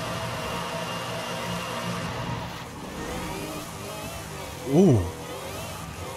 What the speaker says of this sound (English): The supercharger whine.